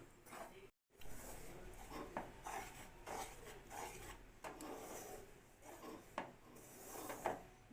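A spoon scrapes and stirs roasted gram flour (besan) with ghee in a pan, faint rhythmic rasping strokes repeating steadily with one brief dropout.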